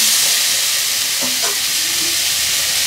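Water added to potatoes and pointed gourd frying in oil for a tilapia fish jhol, a loud, close, steady hissing sizzle with a brief bubbling burst midway, no talking.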